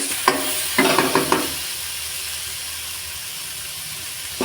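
Ginger garlic paste and sliced onion sautéing in a pan for palak keerai kootu, with a few quick stirring scrapes and sizzles early on, then a soft steady frying hiss.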